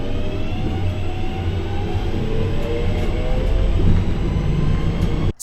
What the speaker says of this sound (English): now we get on a 3-2-3 train along to Redditch